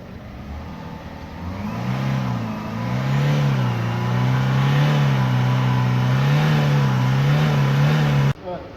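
A car engine revs steadily while its exhaust is being cleaned with an additive, a loud sustained drone rising and wavering in pitch for several seconds before cutting off abruptly near the end.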